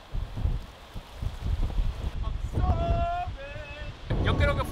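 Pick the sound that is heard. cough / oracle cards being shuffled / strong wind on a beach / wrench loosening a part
strong wind on a beach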